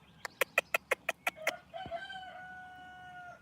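A rooster crows close by: a rapid series of sharp, evenly spaced clucks building into a long, drawn-out crow that trails off.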